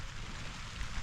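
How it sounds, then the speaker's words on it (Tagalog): Sudden heavy rain pours down in a continuous dense hiss, steady and fairly close, with no voices over it. "biglang lakas ng ulan"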